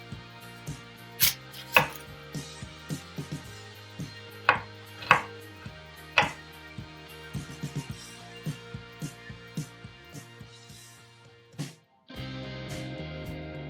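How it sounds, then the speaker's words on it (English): A small to medium onion sliced with a knife on a cutting board, a run of sharp, close, irregular chops that slow and stop near the end, followed by a brief low clatter. "Peel and slice a small to medium-sized onion."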